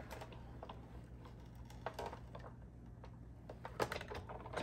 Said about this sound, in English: you're just going to run it through your machine the same way that you did with your